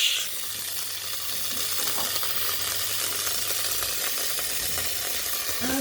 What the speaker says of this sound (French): On met un peu de beurre dans une casserole chaude.